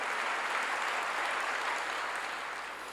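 A church congregation claps together in dense, sustained applause that stays steady and loud, fading slightly toward the end, with no voices standing out.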